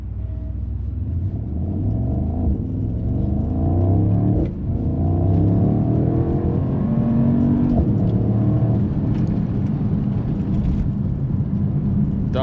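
A 2025 Mercedes-AMG SL 63 S E Performance hybrid roadster, rated at 805 hp, accelerates hard in a drag run. Its engine note is a loud, steady rumbling roar that climbs in pitch as it gathers speed.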